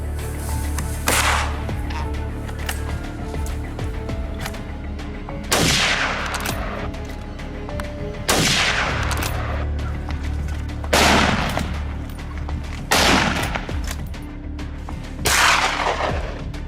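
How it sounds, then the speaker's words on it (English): Rifle gunshots fire in rural fields near suburbia, six loud sharp cracks spaced a few seconds apart, each with a short decaying echo over a low rumbling background. "But rifles are noisy, attracting attention even in rural areas."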